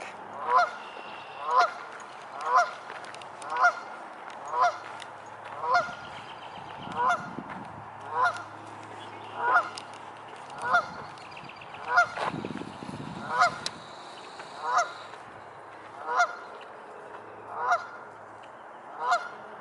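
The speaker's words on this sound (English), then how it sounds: "Are you taunting this duck?" A duck, tagged as goose-like, honks repeatedly at an even, roughly one-per-second rhythm, each call loud and close, continuing alone for nearly twenty seconds with faint background noise between calls.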